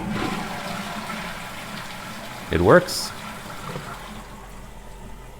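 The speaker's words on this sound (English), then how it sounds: "Let's try flushing the toilet once." A Geberit toilet with freshly descaled flush and fill valves gives one short, loud rush of flushing water partway through, set against steady low background noise, with a brief spoken remark from a nearby voice.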